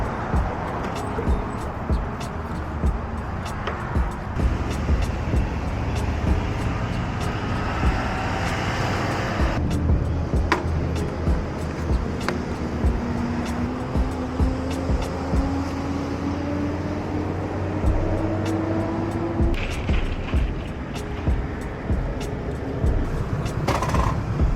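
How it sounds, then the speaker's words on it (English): A Ducati Panigale V2 motorcycle ridden on the street: a steady engine drone under heavy wind roar, its pitch climbing gradually as the bike accelerates, with occasional faint voices. "So we're gonna go with the Ducati Panigale V2."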